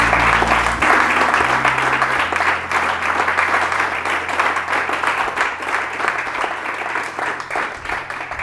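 A church congregation applauding, a dense sustained wash of many hands clapping together, loud and continuous throughout with faint crowd murmur beneath.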